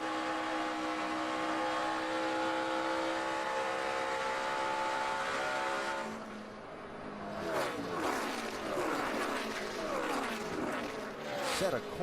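NASCAR race car engine at the 2012 STP 300, a sustained high-pitched whine that fades after about six seconds, followed by commentators speaking over the continuing track noise.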